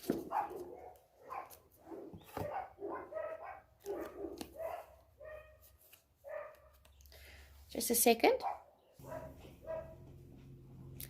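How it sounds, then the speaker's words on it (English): Dogs barking and yipping in short bursts close by, mixed with a person speaking over them, with a louder, sharper flurry of barks partway through before things quiet down. "I had to sort out a problem with dogs."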